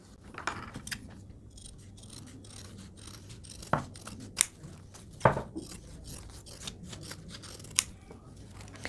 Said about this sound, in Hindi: अब यहाँ से आप अपनी एक्स्ट्रा बुकरम ऐसे काट दीजिए